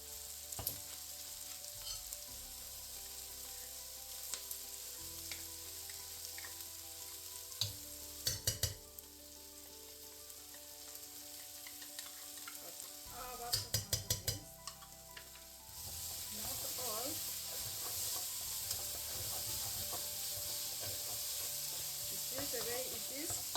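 Tomato paste frying with garlic in a pan for cabbage and duck soup, a steady close sizzle throughout with a few sharp scraping stirs and clanks, growing louder near the end.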